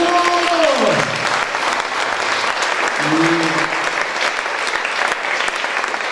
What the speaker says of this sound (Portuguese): Aplauso pro Couto!